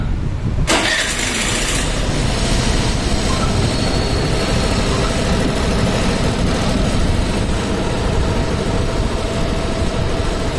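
A repaired Suzuki Access scooter engine starts and then runs steadily at idle, close up and fairly loud, with a continuous mechanical hum that holds even across the whole stretch with no talking.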